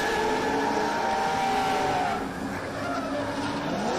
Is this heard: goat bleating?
no